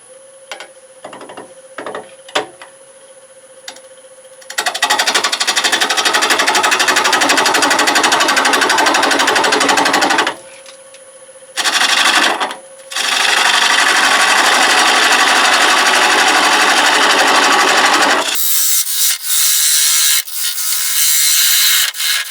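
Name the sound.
wood lathe hollowing out a walnut candy dish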